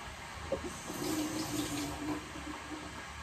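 Tap water runs steadily over ginger being washed in a kitchen, a continuous close splashing hiss with faint handling sounds and a light clunk early on.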